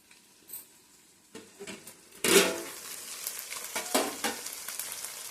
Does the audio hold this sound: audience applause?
no